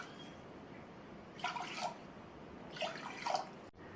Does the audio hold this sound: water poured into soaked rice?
yes